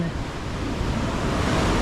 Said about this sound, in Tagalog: lumalaki yung alon